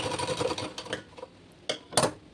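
A sewing machine stitches a blouse seam about a quarter inch wide, running in a short rapid burst up close before stopping, followed by a few sharp clicks and handling noises.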